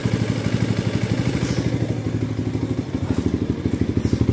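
Steady rhythmic putter of a stock Yamaha Sniper 150 motorcycle engine idling close by, fitted with an aftermarket pipe and following a valve clearance adjustment, with even low thumping pulses throughout.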